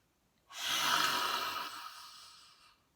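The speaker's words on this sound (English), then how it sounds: "So you take a deep breath in." One deep breath drawn in through the nose during a seated yoga exercise, a close, steady rushing inhale lasting about two seconds that fades gently at the end.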